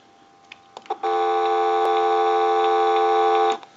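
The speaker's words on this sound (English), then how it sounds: "give you some dial tone" A GE 6.0 model 27909 cordless telephone gives a steady, continuous dial tone heard close up for about two and a half seconds. A few handset clicks come just before it starts.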